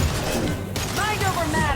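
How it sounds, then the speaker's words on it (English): A concussive shot fired during combat in Mass Effect 2 gives a short thumping impact with a crash, over background battle noise, while a voice speaks. "Taking cover. Firing concussive shot."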